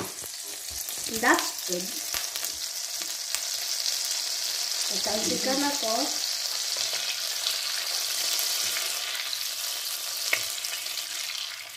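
Butter sizzles and fries steadily in a pan with shrimp, a constant crackling hiss filling the clip while brief speech comes in twice.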